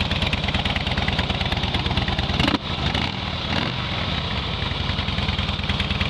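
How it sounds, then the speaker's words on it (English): A 2007 Harley-Davidson Deuce motorcycle engine idles loud and close in a steady, throbbing lope with a brief dip partway through, running alone without talk. "Great running bike."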